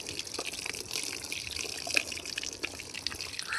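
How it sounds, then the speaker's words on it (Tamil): Water pours into a drum to soak a soil mix for a pot garden, a steady rushing splash close by that keeps going without a break, with no talking. "இப்போ தண்ணி விட்டுடலாம்."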